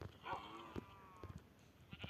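Sheep bleating in the video game Minecraft, a few short synthetic bleats spaced through a brief stretch, close and clear, with faint background sound between them.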